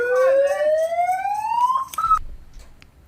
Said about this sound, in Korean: 들어보면 막 그 사이렌 소리 같은 게 나고